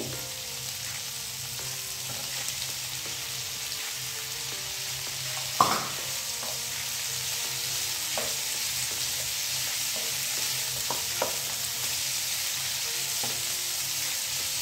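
Red bell pepper frying in a pan for a mixed-vegetable filling, with a steady background sizzle, occasional utensil scrapes and one sharp knock partway through.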